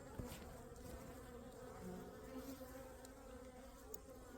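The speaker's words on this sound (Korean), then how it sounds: "벌들이 윙윙거리는데 쏘질 않네." Honeybees swarm around a beehive knocked over by a raccoon, making a faint, continuous, layered buzzing drone that holds steady throughout with no talking.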